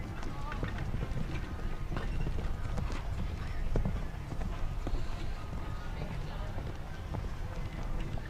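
Horse hooves clip-clopping on the footing of a 1.45m show jumping ring, a steady stream of muffled beats under crowd and arena murmur, with voices present.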